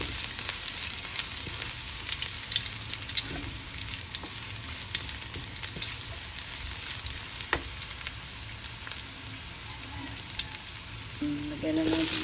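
Bottle gourd and sardines sautéing in a pan, a steady close sizzle with occasional clinks and scrapes of stirring, plus a brief higher tone near the end.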